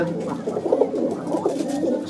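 Pigeons coo steadily nearby, a dense, throaty murmur of repeated calls overlapping throughout.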